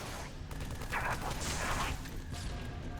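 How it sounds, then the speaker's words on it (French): Explosions and gunfire from the Halo 3 video game come as a quiet, muffled volley of shots and blasts, with a couple of bright bursts in the middle over a steady low background. "je me prends toutes les explosions dans la gueule"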